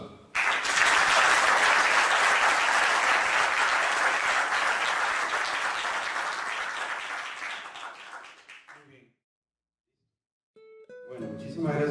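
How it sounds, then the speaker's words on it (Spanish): Strong audience applause at a book presentation round table, sustained dense clapping from many hands lasting about eight seconds and tapering off to silence before a voice resumes. "Un fuerte aplauso."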